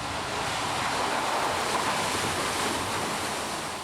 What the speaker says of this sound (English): As thousands of gallons of water flood the cargo hold, the miniature skeletons are washed away in its wake.